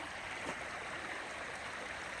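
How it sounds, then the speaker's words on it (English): Creek water cascading through a stream in a wooded metro park on a winter day, a soft, continuous rushing hiss, faint and steady with no voices. "beautiful sound of the water cascading through the stream on its way to Twin Creek."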